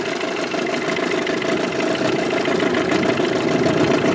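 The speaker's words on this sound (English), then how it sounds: "The other thing I like about this motor is it idles." A 25hp Evinrude tiller two-stroke twin outboard motor idles steadily and close by, a constant loud burbling drone with no talking.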